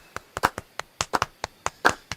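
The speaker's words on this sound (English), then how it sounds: "For that, we must applaud him." Scattered hand claps from a small live improv comedy audience, a dozen or so distinct sharp claps in an uneven rhythm, fairly close and thin rather than a full ovation.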